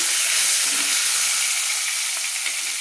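Chopped tomato hits hot spiced oil in a pan and is stirred, producing a loud, continuous bright sizzle up close with no talking.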